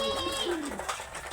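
A long-distance racing pigeon coos close by in a loft, giving a soft, continuous throaty call over a faint hum of background noise.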